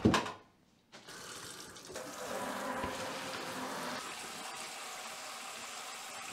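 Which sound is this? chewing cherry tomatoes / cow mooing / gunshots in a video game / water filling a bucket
water filling a bucket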